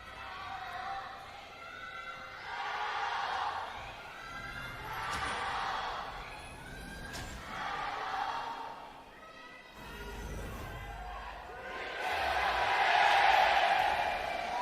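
Stadium crowd at a Rift Rivals 2019 League of Legends esports match, Griffin vs JD Gaming, roaring in repeated loud swells of cheering that build to a big final surge, with faint commentator talk underneath.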